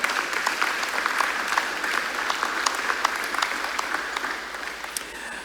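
A conference hall audience of church delegates applauds steadily, a dense wash of clapping from many hands that holds even and sustained throughout, with no voices standing out.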